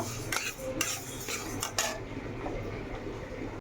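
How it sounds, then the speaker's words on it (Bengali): Lentils being fried in a pan are stirred with a metal utensil, giving a run of close scraping and clinking strokes over a soft background, then quieting toward the end. "ডালটাকে সরি ডালটাকে ভেজে নিচ্ছি"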